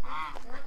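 A goose gives a single close, nasal honk, slightly drawn out and followed by a softer second call, loud against a quiet outdoor background.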